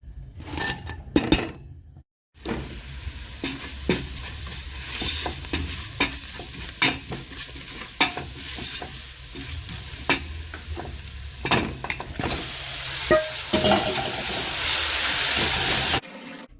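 Mung beans, ndengu, frying in a pot, a steady close sizzle broken by sharp clacks of a spoon stirring against the pot, with a brief silent gap near the start and the hiss growing stronger at the end.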